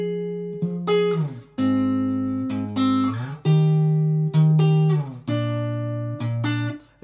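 A guitar plays a repeating riff: sustained, clearly pitched notes and chords, each struck and left to ring, cycling through the same phrase with no talking.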